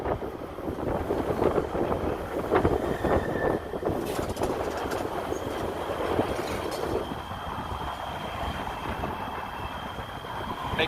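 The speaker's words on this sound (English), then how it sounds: "You guys are tripping out on that sound. Is a train above us." A train rumbles overhead on tracks above a street near the main county jail in Los Angeles during a protest, a steady, loud, continuous roar with faint squealing that fills the whole stretch.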